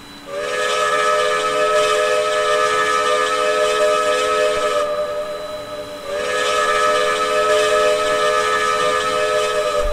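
Steam whistle of the Strasburg 382 locomotive in the Trainz 2019 railway game, two long loud sustained multi-tone chime blasts with a brief dip between them, played alone.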